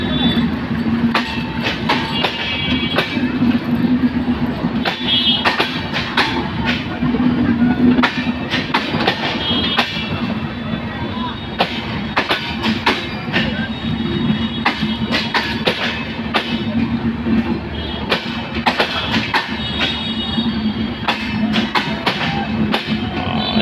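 Ekota Express train pulling out of Santahar junction station in Bangladesh, loud close rumbling wheels with a rapid irregular clickety-clack over rail joints and brief squeals, heard steadily throughout.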